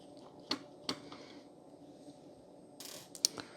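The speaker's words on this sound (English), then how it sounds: "it appears we'll need to remove this screw" A small screw is being removed from a Libretto laptop, giving quiet, sharp mechanical clicks and ticks at irregular intervals, close up and with brief pauses of near-silence between them.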